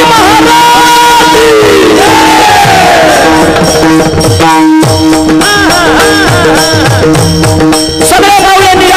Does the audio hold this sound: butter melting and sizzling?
no